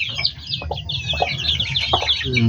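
A mother hen and her four newly hatched chicks: repeated soft clucks and high, rapid peeping chirps, close by and continuous throughout.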